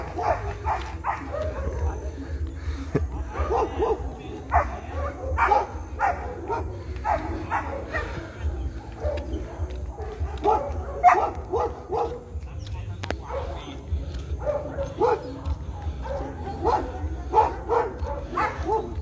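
Four dogs at a reservoir outing bark and yip in rapid, irregular bursts, fairly close and lively throughout, with a voice speaking now and then among them.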